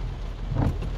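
A steady rain shower falls on the first day of the year in Saudi Arabia, a dense even hiss with a brief swell near the middle, heard alone without voices.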